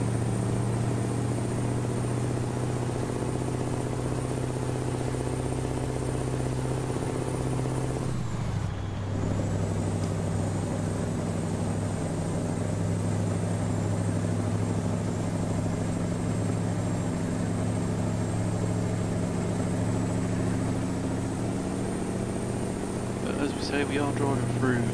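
A truck cruising in Euro Truck Simulator 2 on a road through Turkey, with a steady droning engine hum and road rumble throughout, a brief hiss-like dip midway, while someone talks over it.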